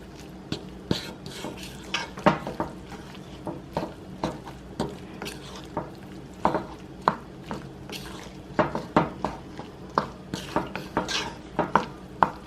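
A spoon stirs a dried cheese packet into Kraft macaroni in a pot, making a steady run of close, sharp clinks and wet scrapes against the metal with brief pauses between strokes.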